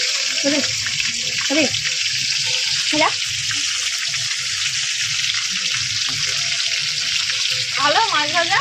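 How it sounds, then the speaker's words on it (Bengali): Pieces of catla fish fry in oil in a pan with a constant loud sizzle and spatter. Faint bits of voice surface now and then over the hiss. "ভালো মাছ ভাজা।"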